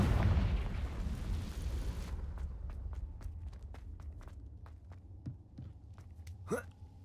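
Confringo blasting spell in Hogwarts Legacy bursts with a heavy, rumbling explosion at the start, then decays into scattered crackles and small debris clicks, with one brief sharp flare near the end.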